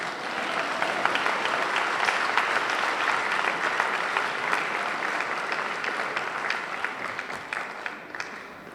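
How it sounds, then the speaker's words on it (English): Sustained applause from a high school audience at a talk on oaks and moths, dense steady clapping that holds for several seconds and begins to thin out at the end. "I am so glad that everybody claps for oaks because you really should."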